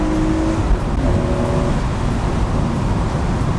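A BMW E46 M3 convertible with its S54 engine accelerating on a UK road, a loud, steady engine roar with wind and road noise, heard from inside the car.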